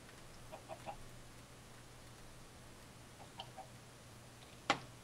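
A chicken in the Minecraft video game gives a few soft, sparse clucks over a quiet low hum, followed by one sharper, louder click near the end.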